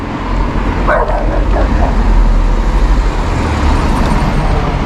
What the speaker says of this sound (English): I was wondering where that barking was coming from